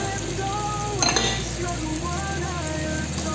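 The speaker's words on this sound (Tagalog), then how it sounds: "Hayaan lang po natin siyang mag-brown-brown kasama ang mga spices" Meat browns with spices in a hot pan for an Arabic-style masaghaa dish, giving a steady close sizzle of frying with a few faint clinks of a utensil against the pan.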